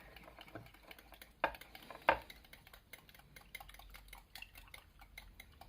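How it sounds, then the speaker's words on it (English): A utensil beats sponge cake mixture in a bowl with quiet, rapid, rhythmic clicks and scrapes, plus two sharper knocks against the bowl, faint and close with no talk. "I don't know why it has to be beaten."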